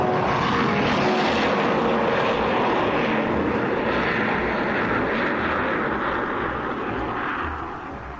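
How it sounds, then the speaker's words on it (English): A huge freighter aircraft roars overhead, a dense, loud, continuous engine drone that holds for several seconds before starting to fade away at the end. "the huge freighter passed overhead"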